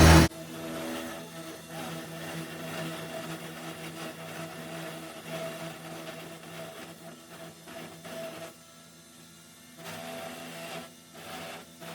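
A wheel-mounted knife machine carves traditional wooden clogs at a farm workshop, giving off a continuous mechanical whirring and rasping with shifting intensity and short dips, and no talking.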